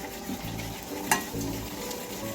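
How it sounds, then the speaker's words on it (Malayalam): A utensil scrapes and stirs through milk in a pan with a soft simmering hiss, plus one brief sharp clink of metal. "ഒന്ന് ഇളക്കി കൊടുക്കണമേ"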